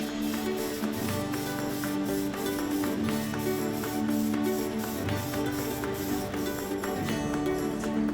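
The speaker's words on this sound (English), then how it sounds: "I've got to put the spray coat over the top of that to give it a nice glossy black shine" Glossy black spray coat hisses onto a shoe in bursts of spraying, steady and close, with faint tapping and a low mechanical hum underneath.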